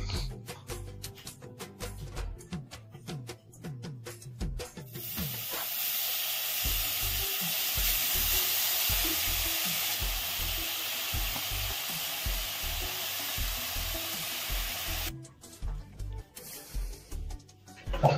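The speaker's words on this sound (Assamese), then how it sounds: "এতিয়া এনেকৈয়ে ল' ফ্লেমত অলপ সময়ৰ কাৰণে ভাজিব লাগিব" Grated coconut frying over a low flame in a hot wok, a steady broadband sizzle lasting several seconds, with stirring scrapes and clatter at the start and end.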